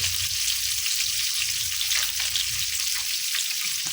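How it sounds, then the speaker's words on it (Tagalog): Continuous sizzling of ingredients sautéing in hot oil, a close, bright crackle with a few louder spits and pops. "At gisa na tayo ng ating mga ingredients."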